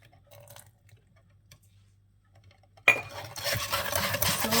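Whisking eggs and oil in a bowl for orange chiffon cake batter, quiet at first, then rapid, steady scraping and clinking of the whisk against the bowl, loud and close.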